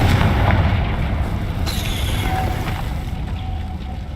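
A Confringo fire-blast spell goes off in Hogwarts Legacy amid dense, continuous rumbling combat noise, a booming burst with a bright crackle near the middle, loud and sustained over the whole stretch.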